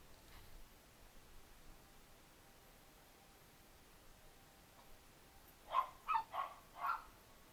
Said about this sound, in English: The dog's going crazy at everything today.